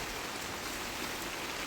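Heavy rain pouring down on a vegetable garden of squash and eggplant, a dense, loud, unbroken hiss that fills the whole stretch with no voices.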